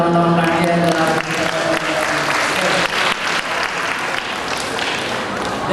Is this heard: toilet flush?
no